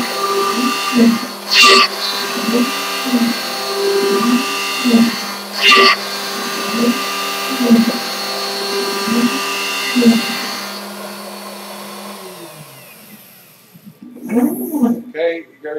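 A CNC router controlled with WinCNC cuts a circle, its spindle holding a steady droning whine with regular rhythmic surges, then winding down near the end before a few short closing bursts.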